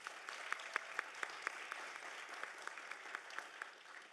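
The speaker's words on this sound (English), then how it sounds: "One more big round of applause." At a university sustainability summit, an audience gives award winners another round of applause: continuous crowd clapping with a few sharp, close individual claps punctuating the steady wash.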